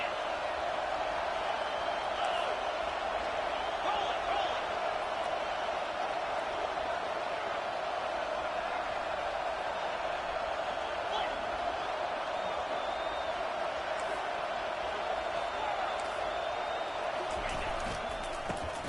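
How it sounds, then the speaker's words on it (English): Steady roar of a stadium crowd at an NCAA 25 college football game, a constant loud wash of cheering and noise behind a commentator's voice. "This crowd trying to make life miserable for this offense."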